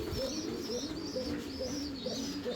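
A male German blaze fancy pigeon coos close by in soft repeated rolling phrases, a low throaty murmur recurring several times over a faint background.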